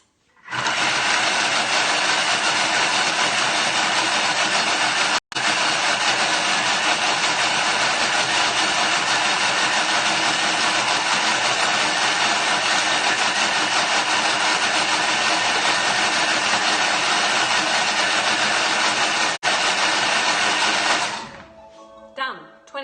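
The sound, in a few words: kitchen food processor blending tandoori paste ingredients at speed 9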